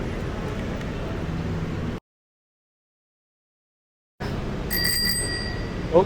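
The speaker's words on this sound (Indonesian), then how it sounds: "Gue mau ganti si klaksonnya dari ini ke di yang model kring-kring gini." A new ring-ring style bicycle bell on a commuter bike rings near the end, a couple of bright metallic dings over steady outdoor street noise after a silent gap.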